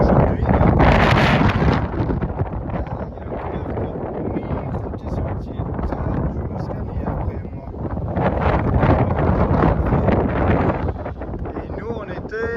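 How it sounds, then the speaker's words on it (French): Gusty wind buffets the microphone with a steady, loud roar on a breezy day in a natural park region, swelling and easing over the whole stretch while faint voices sit underneath. "c'est un peu venteux aujourd'hui"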